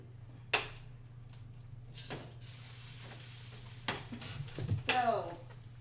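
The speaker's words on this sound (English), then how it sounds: "Mom's gonna give that a good stir" Cheese sauce stirred in a pot on the stove, a quiet scraping swirl over a steady low hum, with clinks of a utensil against the pot near the end and a person's voice faintly in the background.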